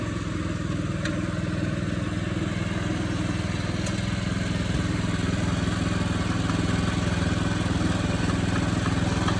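A HECHT 2650 motorized dumper's engine runs continuously while the machine drives, a loud, even mid-pitched drone with a rattling clatter and no breaks.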